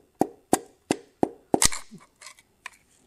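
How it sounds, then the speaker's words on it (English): A piston of a 4.7L Jeep stroker engine is gently tapped down into the bore with a mallet through a ring compressor, giving six evenly spaced sharp knocks followed by a few lighter clicks as the rings seat. "You can actually hear each ring click into place."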